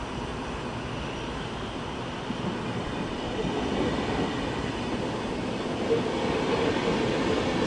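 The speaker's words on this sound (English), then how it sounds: "we've got an intercity service to Kiel via Wuppertal" An intercity train bound for Kiel via Wuppertal rumbles steadily through Köln Hbf station, a continuous heavy rolling drone with faint clatter building slightly in the second half, no talk.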